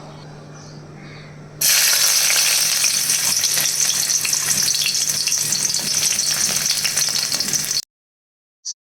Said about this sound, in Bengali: এখন এটা তেলের উপরে দিয়ে ভাতটাকে ভেজে নেব